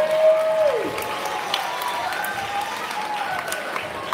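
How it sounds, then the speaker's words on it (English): A school pep rally audience gives the contestants a round of applause, with dense clapping and a few cheers throughout, a voice briefly rising at the start. "all these contestants a hand, a round of applause"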